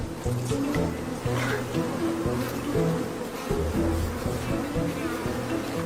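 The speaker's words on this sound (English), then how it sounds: "A swarm of angry bees isn't the best lullaby for a tired wild dog." A dense, droning buzz of a swarm of angry bees in Africa fills the clip, loud and constant with shifting pitches as the swarm hovers close.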